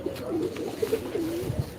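Low, rolling coos from pigeons in a loft come in several short phrases, close and clear with no talk over them.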